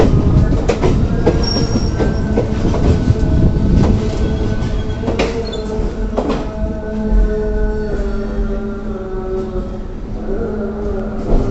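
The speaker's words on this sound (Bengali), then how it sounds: "এই ট্রেনটা জাস্ট হাওড়া স্টেশন লিভ করলো," An early-morning Howrah–Bardhaman local train pulls out of Howrah station, heard from inside an empty carriage: a loud, continuous rumble with rhythmic clickety-clack and occasional squealing of wheels on the rails.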